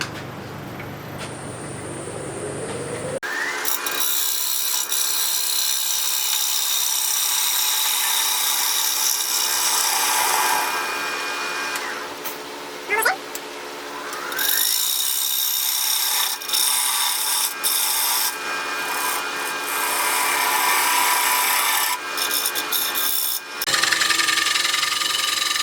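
Wood lathe face turning a piece while a tool cuts the wood, a steady loud hissing scrape with a constant motor whine underneath and a few brief catches, continuous and close, no talk.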